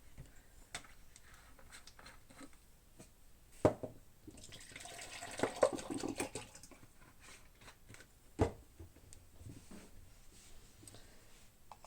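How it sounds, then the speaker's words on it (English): A brush coated in water-based Pebeo mixtion is rinsed out under water, giving faint trickling and splashing with a few clacks and knocks against the sink, quiet and close. "It's water based, so I can just wash my brush out now with some water."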